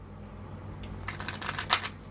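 Tarot cards being shuffled by hand, a soft riffling flutter of card stock that builds into brisk bursts over the last second, heard close and alone.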